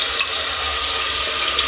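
Spice paste hits hot oil in a pan, giving a dense, loud, unbroken sizzle with the scrape of stirring and no talking.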